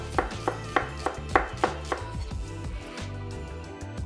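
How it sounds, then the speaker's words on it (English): A knife slicing a yellow onion julienne on a cutting board, crisp evenly spaced chops in a quick run that then softens into quieter cuts, close and clear, with no talking. "Next, we're gonna slice a yellow onion and julienne."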